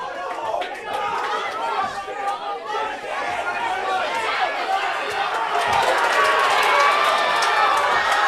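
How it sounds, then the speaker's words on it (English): At a club boxing main event, a standing crowd cheers and chatters continuously from both ends of the hall, a dense, steady roar of voices that swells louder toward the end. "This crowd is on their feet with support from both ends."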